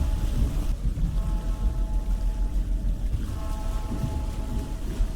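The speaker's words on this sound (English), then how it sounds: "This is going to be a heavy storm." A heavy thunderstorm rolls through the video game Vintage Story: a low, continuous roar of pouring rain with deep rumbling thunder, loud and steady throughout, no voices.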